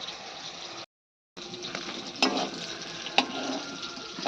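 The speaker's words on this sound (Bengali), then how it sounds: "হয়ে গেল বেগুন ভাজা" Eggplant slices fry in a pan with a steady sizzle, broken by a brief silent gap and a few sharper spatters and scrapes as the pieces are stirred.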